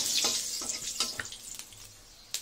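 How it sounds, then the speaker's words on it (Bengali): Fenugreek seeds sizzle in hot oil as a tempering for a fenugreek catla fish dish, giving soft crackling bursts and a few sharp pops, with the frying fading toward a quieter hiss. "মেথি ফোড়নটা দিয়ে দিলাম"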